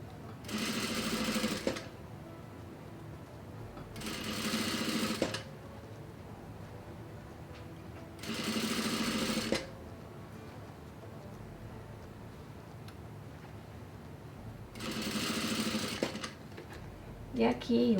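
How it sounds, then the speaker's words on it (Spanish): A sewing machine stitches boning into a corset bodice in four separate bursts of rapid whirring, close by, with quiet pauses between. "Entonces voy cosiendo."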